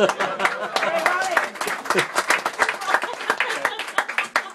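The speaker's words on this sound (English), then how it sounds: "All right, let's have a round of applause." Concert audience applauding, with individual hand claps distinct rather than blended into a roar, coming in uneven bursts from a modest crowd while voices talk and murmur underneath.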